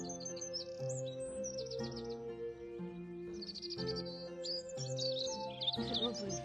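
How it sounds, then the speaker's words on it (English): Several birds sing and chirp in bright, varied phrases in a garden over a soft background hum, with no talking. "You can hear the birds singing"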